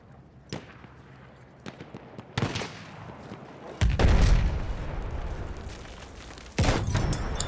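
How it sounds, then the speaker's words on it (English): Gunfire in a hardcore-mode first-person shooter game, several sharp shots and bursts scattered across the stretch, with one heavier rumbling blast, fairly close and loud, with no voices. "Where's that guy shooting me from?"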